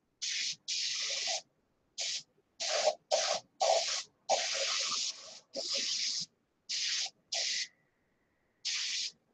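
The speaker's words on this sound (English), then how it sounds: "Notice there's not a whole lot of overspray spraying around" A paint spray gun running at 15 pounds applies orange paint to an airplane in a steady series of hissing bursts of varying length, separated by short pauses, close and fairly quiet with no talking.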